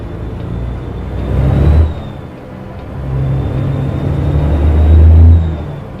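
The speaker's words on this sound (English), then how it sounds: "The engine, yeah." A Volvo truck engine in Euro Truck Simulator 2 rumbles loud and low while cruising through Scotland on a manual gearbox, with two swells of revving and a constant high whine over the drone.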